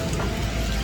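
Heavy rain pours down during flooding in Vietnam after Typhoon Yagi, a dense, unbroken roar of drops with no talking over it.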